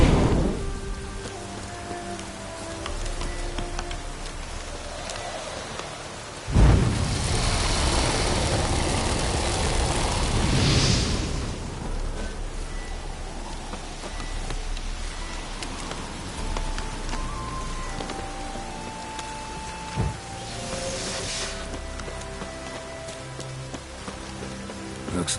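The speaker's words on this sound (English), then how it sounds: "Looks like rain." Steady rain hisses down across a Witcher 3 game scene, a dense, continuous patter with swelling gusts of wind-like noise rising and fading, and scattered soft musical tones beneath.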